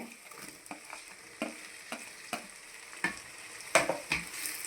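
Tomato pieces and ginger garlic paste sizzling in a hot pan, a continuous close frying hiss broken by regular scraping strokes of a spoon.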